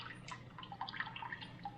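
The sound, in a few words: water draining from a scoop while canning potatoes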